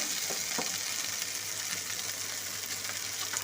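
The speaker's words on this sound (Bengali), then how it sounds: "দুই মিনিট সময় ধরে আমি ভেন্ডিটাকে ভেজে নিলাম" Okra fries over medium heat in a pan, giving a steady, close, dense sizzle with faint stirring clicks and no speech.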